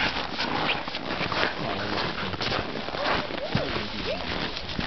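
Dogs whimper and whine in short, high, wavering cries over a busy outdoor background with people talking nearby.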